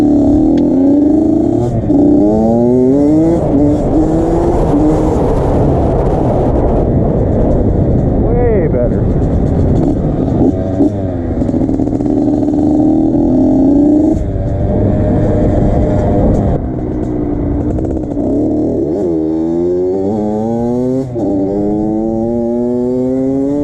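Mini bike engine revving and pulling through gears on a ride around the block with a sealed exhaust, a loud, continuous rising and falling drone close by, with repeated climbing revs.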